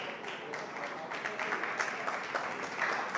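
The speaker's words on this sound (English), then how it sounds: "Thomas, everyone is applauding you" Steady applause from a crowd at an esports racing event at Monza, a dense wash of clapping that holds at an even level throughout.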